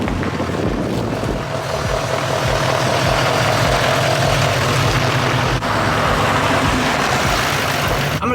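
A Chevrolet L5P Duramax diesel truck with HSP Diesel performance parts, engine running with a steady, loud, throbbing idle rumble close by and some wind buffeting, no speech.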